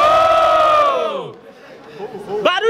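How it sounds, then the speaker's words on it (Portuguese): A crowd cheers and shouts at a student rap battle semi-final in Guarulhos, a loud roar that swells, fades, then picks up again with a few sharp whoops near the end. "Barulho pra essa batalha, rapaziada!"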